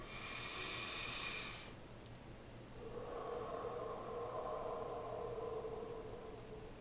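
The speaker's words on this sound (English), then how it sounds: "Maybe we take a deep breath, okay?" A slow, deep breath, a breathy hiss drawn in and then released, close and fairly quiet over faint background noise.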